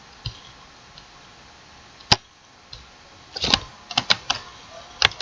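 Scattered clicks of typing on a computer keyboard, first sparse single taps and then a quicker cluster of keystrokes, close and crisp with quiet gaps between them.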